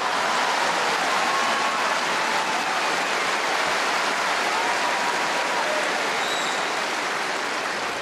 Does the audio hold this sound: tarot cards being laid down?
no